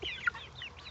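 Brief, faint cluck from Prunella, a pet chicken, a single soft call over quiet outdoor background.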